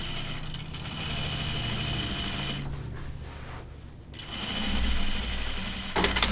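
A domestic sewing machine hums steadily while stitching a continuous curve on a Burnside Bibs garment, a close, even motor whir that runs without stopping and swells slightly toward the end.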